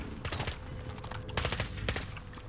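Automatic gunfire in a video game, rapid bursts of shots crackling in clustered volleys, loud and close, with several sharper bursts in the middle and near the end.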